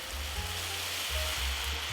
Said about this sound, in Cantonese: 我哋就可以加入白酒啦